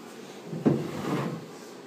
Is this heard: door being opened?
yes